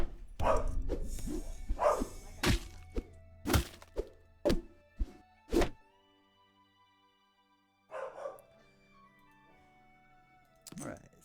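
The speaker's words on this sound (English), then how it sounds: "Dog's barking." A dog barks in the background of a developer livestream, with a run of sharp, irregular barks followed by a pause and then a few quieter bursts. A person talks around them.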